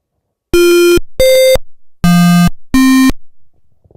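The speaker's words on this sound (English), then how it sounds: "It sounds surprisingly like a sine wave" Four separate SID chip synthesized sine-like tones at different pitches, each about half a second long, clean and loud with a slightly buzzy, thickened edge, separated by short silences.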